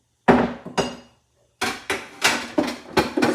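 A cookie scoop works through oatmeal cookie dough in a bowl, making a series of sharp, close clinks and knocks in an uneven rhythm, two strikes, a pause, then about six more.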